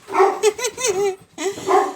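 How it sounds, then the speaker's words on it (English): Dogs bark in a quick run of sharp, fairly loud yaps nearby, with a short pause before two more barks. "Sorry about the dogs."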